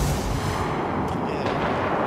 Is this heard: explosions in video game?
yes